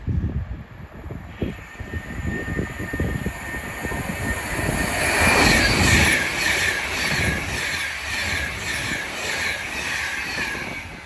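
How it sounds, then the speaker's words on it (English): Avanti West Coast Class 390 Pendolino electric train passing through Watford Junction on the West Coast Main Line, a rushing roar that builds to a peak midway with rhythmic wheel beats and a high whine, then trails off. "Soon to come through now will be a Avanti West Coast 390 Pendolino going from Manchester Piccadilly to London Euston."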